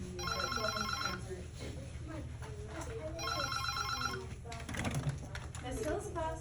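A classroom telephone rings twice in bright electronic bursts, loud and close, while children and a teacher talk beneath it.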